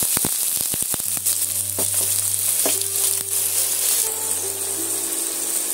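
Onions sizzling in hot mustard oil in a pan, a steady bright frying hiss with a low hum beneath and a few sharp crackles and pops near the start.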